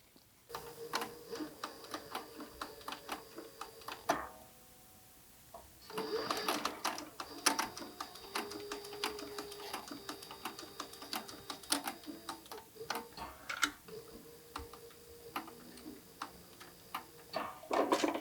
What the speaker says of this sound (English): I'm going to go across it one more time and make sure that it's got a nice double stitch so it doesn't ever bust open.